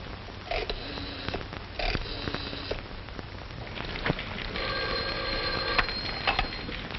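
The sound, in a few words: telephone being called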